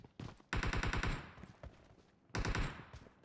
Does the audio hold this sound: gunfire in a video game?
yes